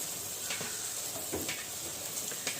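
Steady hiss of fuchka puris puffing up as they fry in hot oil over a wood fire, with a few soft clinks and scrapes of a utensil over the constant sizzle.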